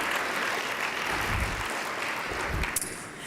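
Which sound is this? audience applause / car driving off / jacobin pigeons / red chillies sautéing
audience applause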